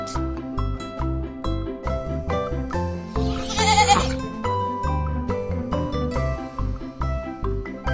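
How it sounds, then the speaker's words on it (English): A farm goat lets out a clear, wavering bleat midway through, heard over bouncy children's music that plays throughout. "goat,"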